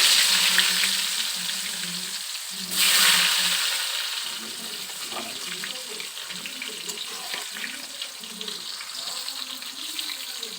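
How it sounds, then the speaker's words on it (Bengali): Potatoes sizzle and crackle steadily in a hot wok, a busy frying hiss with a brief louder burst and scattered stirring clinks. "কড়াইতে আলু ভেজে নিচ্ছি"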